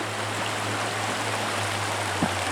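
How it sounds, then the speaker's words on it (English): The Doe River, a small creek beside a highway, flows steadily, a soft continuous rush of water with a faint low hum underneath. "the Doe River, it runs just right along the side of the highway here. Looks like a small creek"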